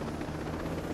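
Drones in the video game Ghost Recon Breakpoint give off a steady, faint rotor-like hum that holds evenly with no other sounds over it.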